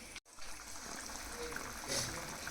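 Water pours into a pan of cooking liver-style fry gravy, a steady trickling splash that runs continuously at close range with no voices over it.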